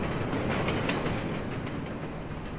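Steady rumbling and clattering of a subway train rolling along rails in Splinter Cell Blacklist, a continuous loud mechanical roar with faint rhythmic clacks and no talking.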